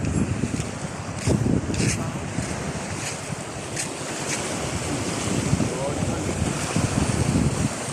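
Steady wind roars across open water, buffeting the microphone in gusts, with waves and a faint boat hum underneath; brief voices surface now and then.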